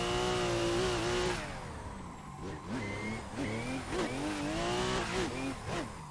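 Engine of a Formula Drift Supra in a racing video game revs and drones loudly and steadily, rising and falling with gear changes and throttle, close and continuous with no pauses.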